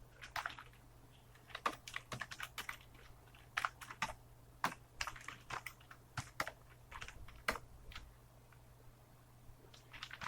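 Typing on a computer keyboard, irregular bursts of light clicking keystrokes with short pauses, close and quiet over a faint steady hum, no talking.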